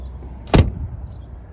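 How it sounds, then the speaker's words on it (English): A Tesla Model 3 or Model Y car door fitted with a noise-reduction seal kit swings against the frame with a single dull, close thud and fails to latch fully, its window not sealing, leaving a faint hum afterward. "as you can tell, the window's not making a seal and it's not closing all the way."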